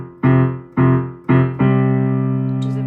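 Piano plays a phrase from a film theme: three quick, evenly spaced chords strike loudly, then a fourth chord is held and slowly fades.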